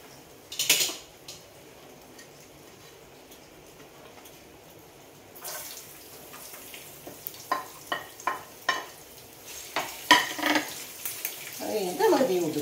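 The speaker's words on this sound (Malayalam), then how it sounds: "തേങ്ങയും നന്നായിട്ടൊന്ന് ഫ്രൈ ആയിട്ട് വെക്കാം." Grated coconut sizzling as it fries in a pan for crispy ivy gourd (kovakka) fry, with scraping stirs and clinks of a spoon against the pan coming in bursts, close and fairly quiet.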